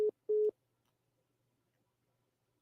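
A telephone busy tone after a dropped call: two short electronic beeps, then near silence and the start of another beep.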